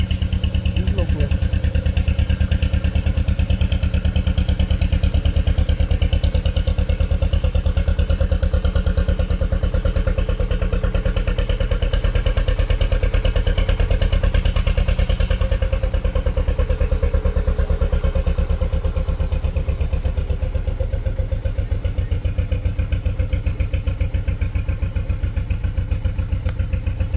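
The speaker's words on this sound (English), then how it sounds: "Sounds like a boat. It's a boat!" A boat engine on a river drones on throughout with a steady low chug, a constant rhythmic throb with a faint clatter and voices talking over it now and then.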